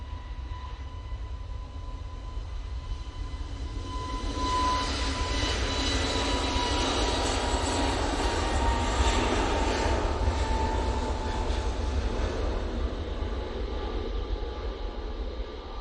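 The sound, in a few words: Airbus A320neo aircraft departing for Madeira Funchal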